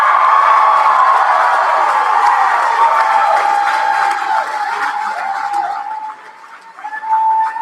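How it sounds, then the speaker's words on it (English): Applause and cheering from an awards ceremony crowd fill the hall, a steady broad wash of clapping with scattered whoops that eases slightly toward the end before swelling again. "one more round of applause for the entire field of occupiers"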